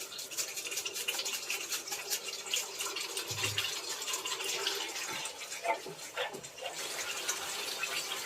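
Water poured into a pan of Nobabi-style katla fish curry makes a steady, close splashing rush that runs continuously with a brief lower gurgle midway, with no voices.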